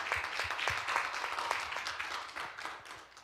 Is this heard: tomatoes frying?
no